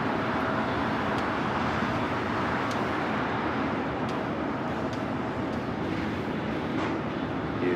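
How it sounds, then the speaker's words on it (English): A United Airlines Boeing 737-800 on its takeoff roll at LAX gives off a steady, broad jet roar that holds at constant loudness from start to finish, alone with no voices. "Our next takeoff here on the south side is United Airlines Flight 1841 heading to Phoenix in a 737-800."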